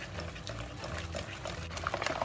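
Water pours into a savory cooking mixture for Ramadan appetizers, a continuous close splashing trickle lasting a couple of seconds, with no talk.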